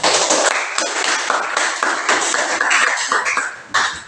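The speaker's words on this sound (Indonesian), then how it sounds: "mari kita memberikan aplaus yang paling meriah dulu" Classroom applause from high school students, a dense burst of many hands clapping together, loud and close, holding for about four seconds with a brief swell near the end.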